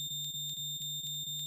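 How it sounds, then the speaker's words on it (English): A fire alarm sounds alone with a steady electronic tone that pulses in a fast, regular rhythm, about four beats per second. "I said, that's the fire alarm."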